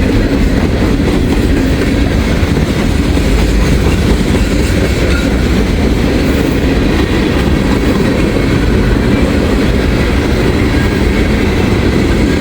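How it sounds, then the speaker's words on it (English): Long freight train of old boxcars ending with a flat car and a tank car rolls past close by, a steady loud roar with rhythmic clickety-clack of wheels on rail joints throughout. "An old cut of boxcars here at the end of the train. Rounded off with a flat car and a tank car."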